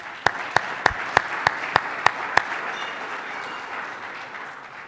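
A burst of applause starting with a run of eight sharp, evenly spaced claps, then settling into a steady, soft wash of clapping.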